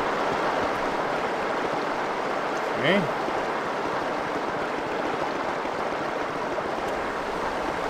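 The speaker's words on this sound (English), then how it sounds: "That's some water." Steady flowing water in the game Star Wars: Dark Forces II, a loud, constant rushing wash like a stream, with a short spoken word briefly heard over it.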